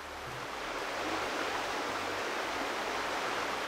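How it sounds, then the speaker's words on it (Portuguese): Water springing from the ground in Farming Simulator 2015, a steady broadband rushing gush that holds constant and fairly close throughout with no voices over it. "E essa água aqui que brota"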